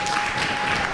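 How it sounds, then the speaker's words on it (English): Applause from a live studio or event audience, dense and steady, filling the whole short moment with no voices over it. "when you hear the applause"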